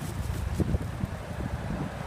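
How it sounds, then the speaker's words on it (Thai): Outdoor wind blows across the microphone where dough for twisted Thai fried dough sticks is being prepared, a steady low rumbling gust noise with faint rustling and no clear talk. "ลมพัด"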